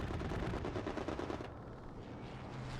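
An aircraft makes a strafing run in the World War II shooter Hell Let Loose, its gunfire a fast, dense rattle of rounds that stops abruptly midway and leaves the distant battlefield behind.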